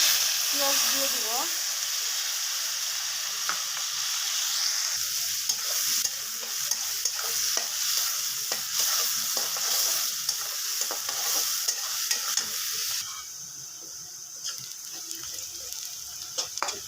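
Onions frying in oil for pangas fish bhuna, a loud continuous close sizzle with steady stirring scrapes throughout, easing slightly near the end while a voice speaks briefly over it.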